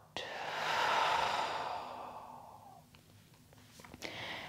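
A long, full exhale during a slow at-home yoga session, breathy and close, swelling then fading over a few seconds, followed by a softer breath and faint rustle.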